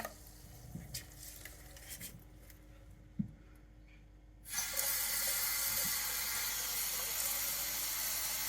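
After a few soft clinks and quiet stirring, water pours steadily into a pot of sushi rice with a loud, continuous rushing splash.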